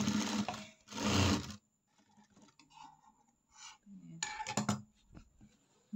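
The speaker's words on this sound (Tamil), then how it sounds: "மடித்து அப்படியே ஒரு ஸ்டிச்சிங் போடலாம்." A sewing machine stitches a folded hem on a blouse in short bursts of running, broken by quiet pauses, small handling clatter and faint rustling of fabric.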